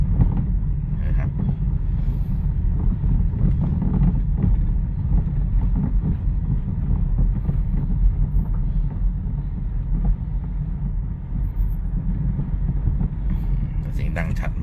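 A misfiring Skyactiv petrol car engine idles with a steady, dense low rumble and uneven throbbing, heard close and loud for the whole stretch with no break.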